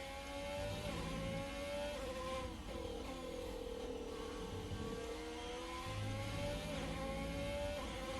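Formula 1 car in the F1 2020 video game, engine droning as it revs up and down through gear changes with a faint high whine from the gearbox and hybrid system, steady and fairly quiet.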